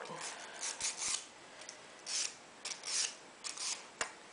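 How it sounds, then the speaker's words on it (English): A wooden piece for a small Punch and Judy seaside theatre model is sanded by hand, giving soft, quiet rasping strokes in an uneven rhythm. "give it a good sand, because you do not want it to get caught on"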